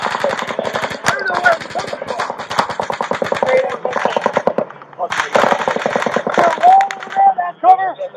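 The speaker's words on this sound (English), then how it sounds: "Fully automatic fire from an elevated position." Fully automatic gunfire from an elevated position in a video game, sounding as long loud bursts of rapid shots broken by a short pause, with voices talking over and between the bursts.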